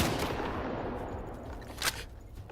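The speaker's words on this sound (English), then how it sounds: "Most underrated gun in the entire Stalker universe, double barrel hunting rifle" A double barrel hunting rifle fires in the video game STALKER 2, giving a single sharp, loud gunshot crack over a steady din of background noise.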